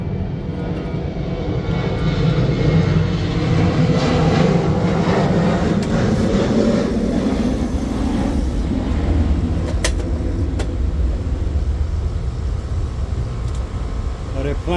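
Fixed-wing airplane flying overhead, a loud steady engine roar filling the whole stretch and drowning out a running air-conditioning compressor nearby, with faint talk underneath.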